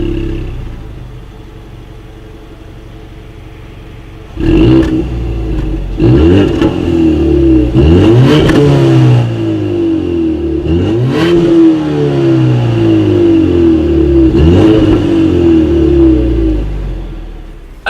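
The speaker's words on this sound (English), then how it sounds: "As always, here is that exhaust clip." A 2019 Ford Mustang EcoBoost with dual exhaust outlets and chrome tips, revved hard several times from idle, each throttle blip rising and falling in a loud, close rasp over a steady rumbling idle, with no talking.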